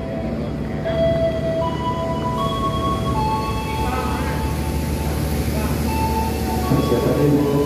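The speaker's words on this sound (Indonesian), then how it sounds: "Wah, ternyata keretanya udah datang." A Jaka Tingkir passenger train rumbles steadily into an Indonesian station, a continuous low roar with squealing brake tones rising and falling, while people talk nearby.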